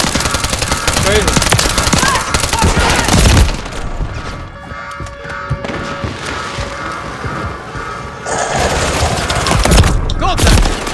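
Dense, loud automatic gunfire and impacts in Call of Duty Modern Warfare 3 multiplayer War mode, easing into a quieter stretch before heavy shooting resumes near the end, with voices talking underneath.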